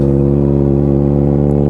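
Kawasaki ZX4RR motorcycle engine held at a loud, steady high rev, a close, buzzing whine with a strong, even tone throughout the short burst.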